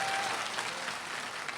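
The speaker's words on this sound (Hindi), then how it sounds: "ठीक लग रहा हो तो एक बार ताली बजाओ" A crowd of listeners at a Hindi poetry recital bursts into sustained applause, dense and steady clapping from many hands that fills the hall throughout.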